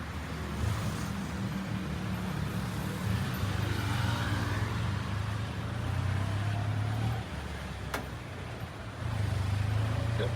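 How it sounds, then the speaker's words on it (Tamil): An auto rickshaw tuk tuk rides through Bangkok traffic, its engine a steady low drone that rises and dips with throttle changes, with road and wind noise around it and no clear talking. "செம்மையாக இருக்குது ஆட்டோ ட்ராவல்."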